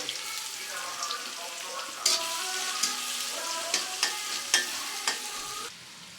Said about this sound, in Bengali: এখন এই তেলের উপরে পেঁয়াজ কুচি দিয়ে দেব, দিয়ে পেঁয়াজগুলা হালকা বাদামি করে ভেজে নেব